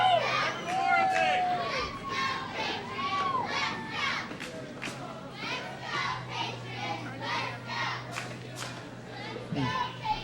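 Youthful voices chant together from a little cheering team marching in a Memorial Day parade in Westminster, the rhythmic calls repeating steadily over a lively crowd murmur with children's shouts, a bright steady din throughout.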